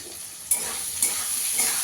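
Chili powder and coriander powder sautéing in a pan for a chhana malai curry, a steady close sizzle broken by three soft stirring scrapes at even intervals.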